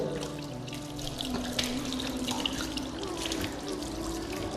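Tap water runs steadily into a basin while feet are washed for wudu, a close, continuous splashing trickle with no talk.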